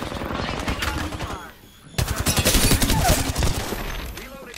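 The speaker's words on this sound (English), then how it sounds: "Taking fire, Ross." Rapid automatic gunfire in the Apex Legends battle royale, loud bursts of machine-gun fire with a brief lull near the middle before a second, denser volley resumes.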